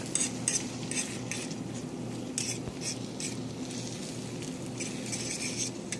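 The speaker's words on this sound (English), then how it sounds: "I'm just going to go ahead and start moving it a little bit, just kind of like scrambling it in there." Egg for an omelette stirred and scrambled in a pan, a soft steady sizzle under repeated light scraping and tapping strokes of a utensil, close and without talk.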